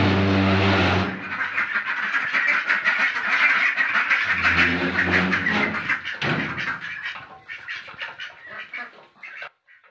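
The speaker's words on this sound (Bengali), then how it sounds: "আমি এখন এটা খাইতে দিব হাঁসকে" A flock of ducks being fed, quacking loudly and continuously close by in overlapping harsh calls, thinning out to scattered quacks and then falling quiet at the end.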